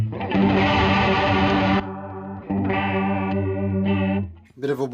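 An electric guitar plays chords through a homemade Boss CE-2 chorus pedal clone built on tagboard, giving a thick wobbling shimmer in sustained phrases, alone and fairly loud, with a brief gap between strums.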